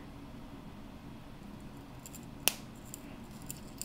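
Wire cutters snip short chain links off a chain for an enameled pendant, one sharp clear cut standing out over a quiet room hum, followed by a few faint small clicks.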